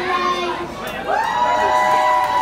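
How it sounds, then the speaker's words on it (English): A crowd of young children cheers and shouts together at a live concert, a loud, sustained burst of excited voices with a rising collective call. "No, you don't cheer for that."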